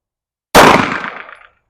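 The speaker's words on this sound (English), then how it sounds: "let's keep shooting" A single sharp gunshot from a PSA Dagger pistol fitted with a Holosun 407 red dot, loud and close, followed by a short ringing decay after a moment of silence.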